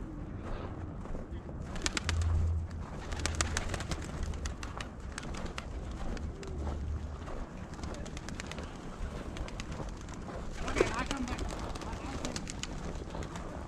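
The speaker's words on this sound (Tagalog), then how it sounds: "Mga kalapati oh." Pigeons coo softly now and then in a cold outdoor setting before a snowstorm, faint beneath someone talking almost throughout.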